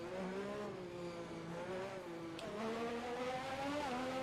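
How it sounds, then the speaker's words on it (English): Haas F1 car engine braking in the racing game F1 2021, a continuous high engine whine with pitch dropping and shifting between gears, loud and steady with no talk. "Let the engine brake its own right here."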